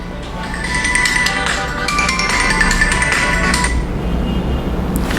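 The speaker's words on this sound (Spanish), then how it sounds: "Estaban llamando por teléfono." A mobile phone ringtone rings loudly in a classroom lecture setting, a repeating electronic melody that sounds for about four seconds and then stops, leaving quiet room noise.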